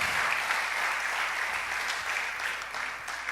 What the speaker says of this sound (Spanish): ¿Cuántos damos un aplauso al Padre por esa misericordia grande?